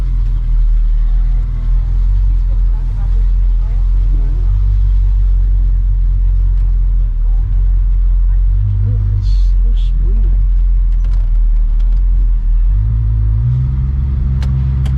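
A car carries people on a ride in California, its engine giving a loud, steady low rumble throughout with some shifts in pitch, while voices talk over it.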